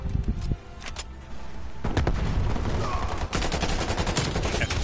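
Gunfire in Call of Duty Cold War rattles out as loud, rapid automatic bursts, with dense volleys crowding the second half, close and continuous with faint voice traces underneath.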